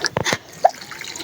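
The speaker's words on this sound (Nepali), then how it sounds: "फुलमा पानी लाउन लागेको।" Water poured over flowers at a home yard makes a couple of short, close splashing bursts followed by a single distinct drip, then quiet, with no talking.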